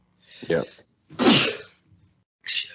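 One person lets out a sharp sneeze during a camping trip, bracketed by short bursts of nearby talk.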